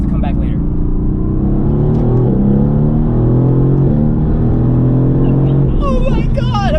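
Mercedes-AMG GTR with an ECU and downpipe tune pulling hard, a loud, close engine roar with rising harmonics throughout, and a voice speaking over it near the end.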